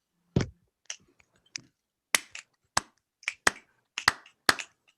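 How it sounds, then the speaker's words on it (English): Audience in an online meeting room snapping fingers in place of applause: a series of sharp, separate snaps, sparse at first then quicker and more regular, close and crisp with no talking. "can I suggest that instead of applause, we just do some finger snaps?"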